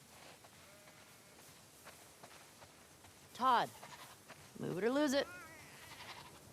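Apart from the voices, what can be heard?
sheep bleating in video game The Last of Us Part II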